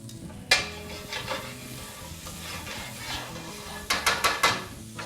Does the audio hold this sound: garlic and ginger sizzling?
yes